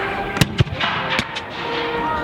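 Musket and artillery fire at an American Civil War battle reenactment, a few sharp distant reports in quick succession over steady outdoor rumble and crowd noise.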